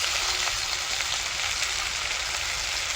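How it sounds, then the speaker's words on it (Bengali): Vegetables with green chilli, salt and turmeric sizzle in a hot pan, a dense, loud, unbroken crackle and hiss heard close up with no voices. "সবজিটা ভালো করে কষিয়ে নেবো"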